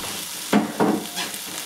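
Meat and vegetables sizzle in a frying pan during a homemade stir-fry, with a steady low frying hiss broken by two distinct stirring scrapes and a softer third one, heard close with no talking.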